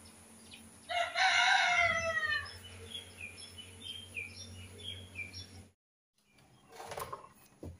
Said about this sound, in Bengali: মোরগগুলা ডাকতেছে।